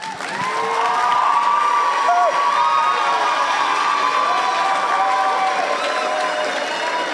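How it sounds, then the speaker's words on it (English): A crowd at a school flag day cheers and applauds the flag bearers, a steady wash of clapping with whoops and children's shouts throughout, loud and sustained. "Please give them your biggest round of applause"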